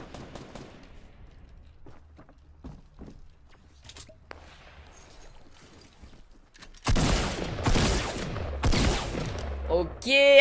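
Pump shotgun fire in Fortnite, with faint scattered game sounds and footsteps at first, then a loud burst of heavy blasts and rattling gunfire near the end.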